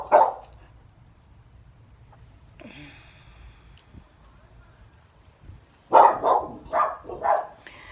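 Dog barking at the neighbours, a single sharp bark at the start, then a quick burst of several barks later, over a faint insect chirr in a quiet outdoor setting.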